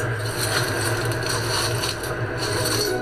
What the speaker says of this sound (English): Bruce dips it into the broken pieces of glass, and this will make the blue blobs of colour on our vase. Listen to that. It's like the sound of a crunching crisp packet.